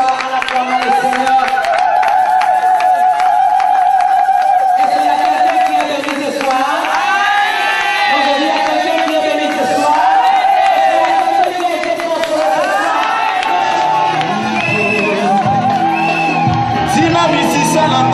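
A church congregation cheers and acclaims the Lord, with a loud, sustained crowd of shouts, whoops and ululating voices, scattered clapping, and a leading voice calling out over the din throughout.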